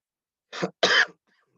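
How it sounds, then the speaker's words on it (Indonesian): Two short, close coughs from a man in a quiet room, a softer first cough followed by a louder, longer second one, then silence. "Maaf sebentar, saya agak batuk."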